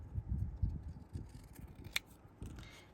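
Scissors cut paper for a flowerpot border, giving several quiet, close snipping and crunching strokes in a loose rhythm, with no talking.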